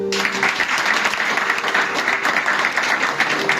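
A church congregation bursts into sustained applause, dense, even clapping filling the room for several seconds with a few voices mixed in.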